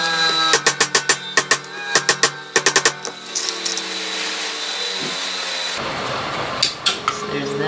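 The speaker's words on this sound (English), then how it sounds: "put it on an anvil and hammer these back down" A steel hammer strikes the handle pins of a chain whip against an anvil in a series of sharp, ringing metallic taps in quick clusters, close and loud, over a steady background hum.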